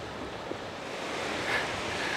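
Sea waves on the Gower Peninsula coast, a soft continuous wash of surf with wind noise on the microphone, gently swelling toward the end, no voices.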